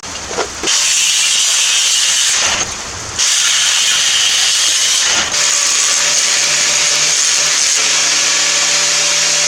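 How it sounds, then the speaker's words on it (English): Steady crackling hiss of welding on a steel adapter for a 1-inch drive shaft, loud and close, running in long continuous beads broken by two short pauses. "Got this adapter halfway welded up."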